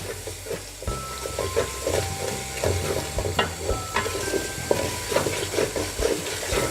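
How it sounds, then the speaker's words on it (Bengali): Spice paste for Bengali-style chicken khichuri is sautéed and stirred in a pan. There is a steady sizzle, with repeated scraping and clinking strokes of the spoon against the metal, and no talking. "এটাকে আমরা ভালোভাবে কষিয়ে নেব।"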